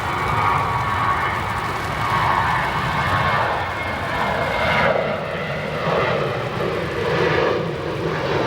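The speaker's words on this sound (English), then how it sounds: "Flight 3786, an Embraer 170. Arriving in from Lexington, Kentucky." An Embraer 170 jet arriving at O'Hare airport on a flight from Lexington, Kentucky, producing a steady, loud engine roar that swells and eases slightly across the span, with no voices.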